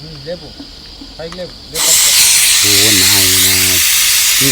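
A pressure cooker on a stove, opened after several whistles, lets out a sudden loud, steady rush of hissing steam that runs to the end. A person talks nearby before and during the release.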